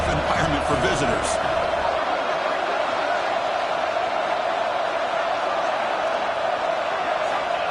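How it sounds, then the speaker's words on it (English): Stadium crowd noise in a college football video game, a steady loud wash of cheering that swells briefly at the start and then holds as a constant roar. "Listen to the crowd energy here in the early going."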